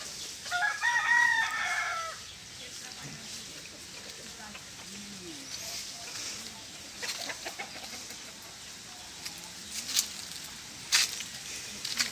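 A rooster crows once loudly near the start at a small farm's chicken area fenced with bamboo, followed by scattered soft clucks and quieter bird calls, with someone talking intermittently.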